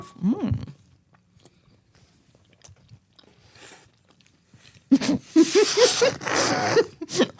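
Someone bites into an apple pie cupcake and chews it messily and wetly, close to the mic. A brief sound comes at the start, then quiet, then a loud stretch of crunchy, squelchy chewing.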